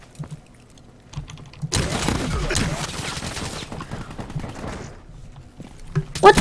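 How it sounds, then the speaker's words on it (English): Bursts of rapid gunfire in the video game Call of Duty Black Ops III, a sustained volley following a few scattered shots, loud and near, with no voices. "I hear shooting over here."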